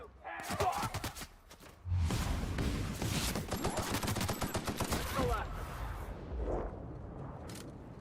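Rapid bursts of automatic gunfire from a weapon in a video game, rattling in quick strings with short pauses between them, fairly quiet in the mix.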